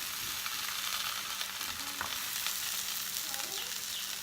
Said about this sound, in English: I put it white side down so it can fry up.